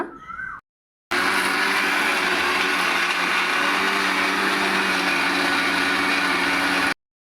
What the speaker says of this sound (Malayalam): ഇതെല്ലാം കൂടെ ചേർത്ത് മിക്സിയിൽ നന്നായിട്ടൊന്ന് അരച്ചെടുക്കണം